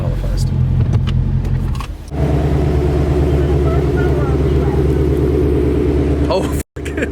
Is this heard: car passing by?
yes